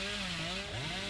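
A chainsaw revs in a multiplayer video game match, a loud continuous droning whine with wavering pitch that fills the short moment.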